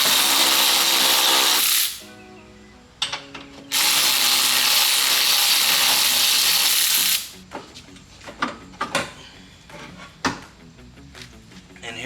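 An impact gun rattles loose 15mm bolts on a Ford Mustang strut, starting with a long, loud burst, a short pause, then a second sustained run, followed by scattered clanks and metallic handling noises.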